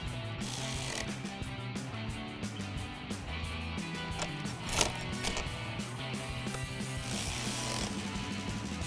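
Quiet, rapid clicking of a ratchet wrench tightening bolts on a 2015-2017 Ford F-150 front bumper, a string of close mechanical ticks with brief pauses between pulls.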